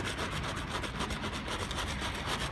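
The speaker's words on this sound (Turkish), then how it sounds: "Şimdi böyle bir plastik spatula bulduk. Bununla ufak ufak Ahmetciğim ince ince çalışıyor." A plastic spatula scrapes steadily across the surface of an inflatable boat during cleaning, giving a continuous close rubbing rasp with a faint repeated stroke rhythm and no voices.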